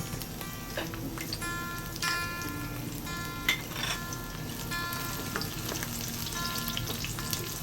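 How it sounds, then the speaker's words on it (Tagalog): Garlic frying in hot oil in a pan for a Filipino clam and bitter melon sauté, a steady close sizzle with light stirring clicks, no talk. "Maglagay ng mantika sa mainit na kawali. Kapag mainit na ang mantika, ilagay ang bawang."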